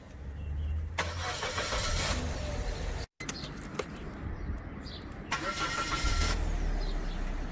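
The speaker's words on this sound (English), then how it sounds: "the car does sound a little bit like a V6 when it's on idle and the car is not moving" Second-generation Suzuki Swift four-cylinder engine cranking and catching twice, each start a brief burst before settling into a steady idle, heard close with a short cut between the two starts.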